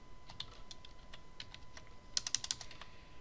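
Quick computer keyboard typing and shortcut key presses, with scattered light clicks followed by a brief cluster of sharper, louder keystrokes near the end, close and alone in a quiet room.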